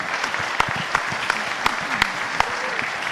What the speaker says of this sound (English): how about a round of applause for Tanya Waikato?